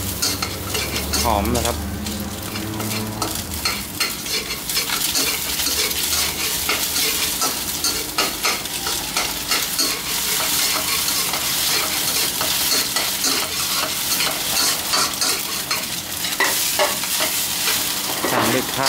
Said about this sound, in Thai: หลังจากนั้นเราก็ใส่กระเทียมลงไปฮะ